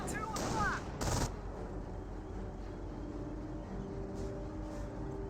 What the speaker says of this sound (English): we've got the MG42 getting some great suppression onto it